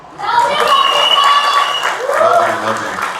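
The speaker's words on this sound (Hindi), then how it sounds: "बॉबी देओल के लिए एक बार जोरदार तालियां" An audience at a trailer launch and media event claps loudly for Bobby Deol, with sustained whistles and voices rising over the steady applause.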